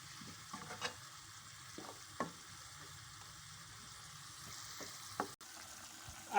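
Minced meat (qeema) with ginger garlic paste stir-fried in a pan, a faint continuous sizzle broken by soft scrapes and clinks of stirring, quiet and close with no talk.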